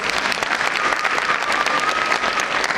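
An audience at a school event claps in a steady burst of applause that fills the room, loud and sustained throughout.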